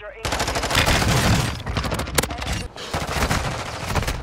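Dense bursts of automatic gunfire and single shots crack loudly through a multiplayer shooter match, nearly continuous with brief gaps.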